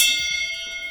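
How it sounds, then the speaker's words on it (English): A nautical bell rings on a live wrestling and sports talk show, a single bright metallic strike that rings out and decays slowly with sustained tones, loud and close. "It's a nautical bell, but it's a bell nonetheless."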